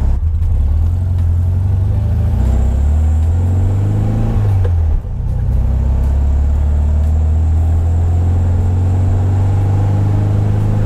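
A 1972 VW Super Beetle's warmed-up air-cooled engine runs steadily close to the microphone, a loud, continuous low rumble with a brief dip in revs midway.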